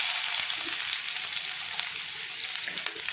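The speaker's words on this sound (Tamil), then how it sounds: "கடுகு எப்படி பொட்டுது பார்த்தீங்க, கருவேப்பிலை." Mustard seeds and curry leaves splutter in hot oil for a tamarind curry, a loud, dense sizzle close by, dotted with quick pops throughout.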